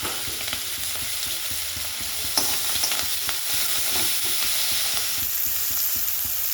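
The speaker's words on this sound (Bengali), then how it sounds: "মশলাটা ভালো করে কষিয়ে নিচ্ছি।" Tomato and spice masala frying in a pan, with a steady loud sizzle and the scrape of stirring repeating in a regular rhythm, close by and without talk.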